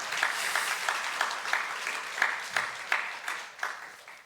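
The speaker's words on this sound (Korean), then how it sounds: "여러분 박수 한번 부탁드리겠습니다." An audience applauds at a university chapel service, steady rhythmic clapping from a sizable crowd in a reverberant hall, continuous and moderately loud for several seconds with no speech.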